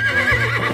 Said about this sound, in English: Oh, a real horse!